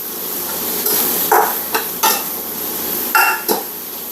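Green peppers and shallots sautéing in butter in a hot pan, with a steady low sizzle and a few sharp clacks and scrapes of a utensil stirring against the pan.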